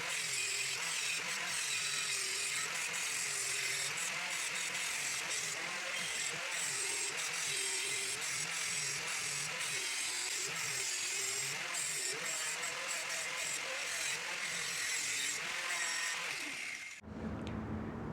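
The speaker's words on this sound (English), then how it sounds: "let's get over to the grinder and cut some of this material down with the grinder" A grinder cuts steel stock for forged lathe tools, a loud, steady grinding roar that runs unbroken for most of the time before cutting off abruptly near the end.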